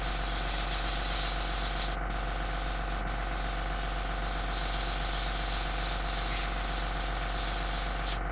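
White paint sprays onto a model ship in a steady, close, continuous hiss, broken by short gaps near the start and end of each pass. Nobody speaks.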